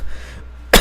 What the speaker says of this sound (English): Sorry if I'm coughing, but I'm kind of sick.